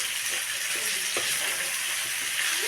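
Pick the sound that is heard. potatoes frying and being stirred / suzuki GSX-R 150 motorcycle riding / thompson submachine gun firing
potatoes frying and being stirred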